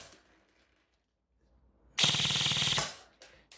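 An airsoft gun with a T238 brushless motor firing a single full-auto burst of roughly a second, a fast, loud, even mechanical rattle of around nineteen rounds a second, close by, then a quiet pause and small handling clicks.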